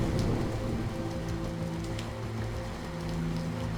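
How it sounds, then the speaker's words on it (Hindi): Heavy rain pours steadily at night, a dense, even wash of drops on surfaces that stays loud and constant throughout, with no other sounds above it. "एक रात जब तेज बारिश हो रही थी"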